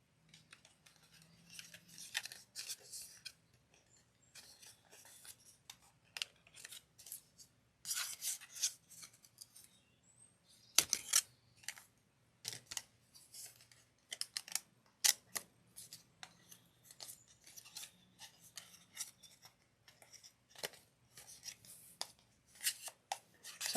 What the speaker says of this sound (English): I can't get my scissors across